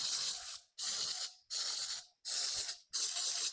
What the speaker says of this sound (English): I'm going to spray the muffin tin.